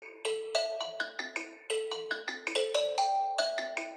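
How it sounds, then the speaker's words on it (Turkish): Backing music plays from a kalimba learning app: bright, chiming plucked notes in quick melodic phrases, clear and close, with nothing else heard alongside. "Arkadan da yardımcı bir fon çalıyor."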